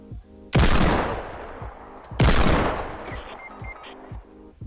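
Two loud, close Desert Eagle shots in Fortnite Battle Royale, spaced under two seconds apart, each a sharp crack with a long rolling tail, plus softer game sounds between.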